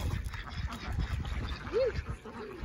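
Ducks at a pond give a few faint, scattered quacks over a busy outdoor background of low rumble and movement, distant and partly masked.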